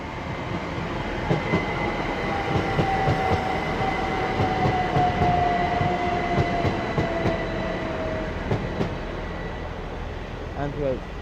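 A Class 387 electric train passing through Slough station on the Great Western Main Line, a loud sustained rumble and rolling wheel noise with a long motor whine and squeals near the end.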